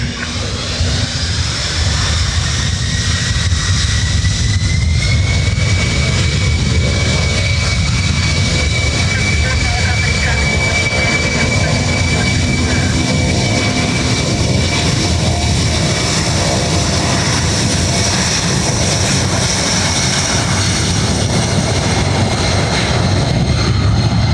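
A C-17 military transport jet arriving at San Juan's SJU airport roars loud and close throughout, a broad steady jet engine rumble with a faint whining tone holding across the whole stretch.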